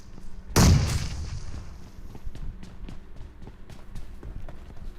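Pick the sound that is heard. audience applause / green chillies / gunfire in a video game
gunfire in a video game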